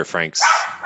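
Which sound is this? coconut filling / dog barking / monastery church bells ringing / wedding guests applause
dog barking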